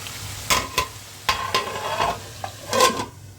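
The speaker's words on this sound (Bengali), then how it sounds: "আমি না ভেজে তেলের মধ্যে ভালো মতো কষিয়ে রান্না করছি" Chicken coated in turmeric and chili cooks in hot oil while being stirred, giving loud scraping strokes in several bursts over a low background sizzle, close up with no voices.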